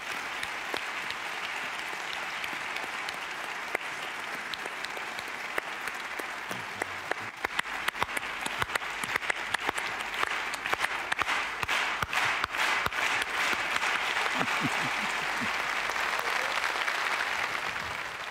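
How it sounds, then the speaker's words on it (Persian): Studio audience on a Persian TV show clapping, sustained loud applause that swells and grows busier with sharper individual claps partway through, continuing to the end. "تشویق کنین."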